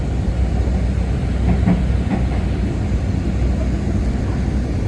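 Loud, steady rumble of an Indonesian Menoreh economy-class passenger train rolling along the rails at night near Bekasi, heard from inside, with faint rhythmic clicks over the track joints.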